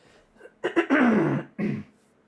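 A single person clears their throat up close, a couple of short rough hacks then a longer gravelly rasp, ending with a brief grunt.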